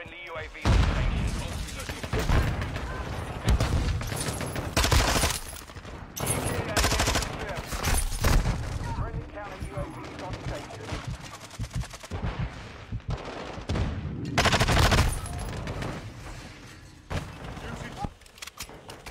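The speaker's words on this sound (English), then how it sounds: "There's always two of them shooting at me." Video game gunfire from two enemies shooting at the player: rapid bursts of automatic fire and single shots repeat throughout, loud and fairly close, while a person talks over much of it.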